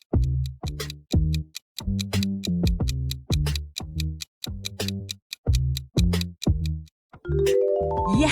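The 20th Century Fox logo fanfare plays as a loud, rhythmic run of punchy brass-like hits with brief gaps between them, swelling into a sustained held chord at the close.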